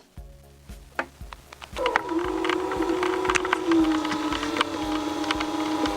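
A small windshield-wiper motor drives a coffee-grinder mill grinding corn for polenta. After a few clicks it spins up into a steady whining hum with rattling, grinding ticks, close and continuous.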